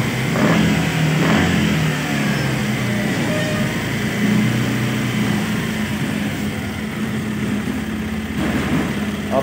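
Bajaj Pulsar 125 BS6 motorcycle engine running close by, a loud continuous drone with brief rises in pitch near the start and later, then easing off steadily.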